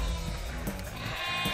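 Sheep bleat a few times in quick succession over a busy, tonal background in Minecraft: Story Mode.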